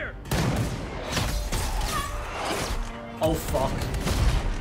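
Gunfire from a Money Heist TV scene sounds as rapid booming volleys through a speaker, while a person talks and exclaims over it.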